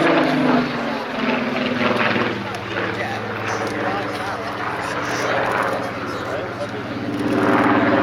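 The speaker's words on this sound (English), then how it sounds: "This aircraft powered by the Rolls-Royce Griffon engine." A historic RAF Battle of Britain Memorial Flight aircraft with a Rolls-Royce Griffon engine flies overhead at the RAF Cosford 2023 airshow, a steady loud propeller-engine drone with a slowly swelling and fading roar and crowd noise underneath.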